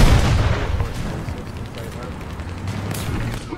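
Gunfire and cannon blasts in the Grant Tank Mk I battle game, a dense, loud stretch of booming shots and rumbling impacts under a voice talking over it.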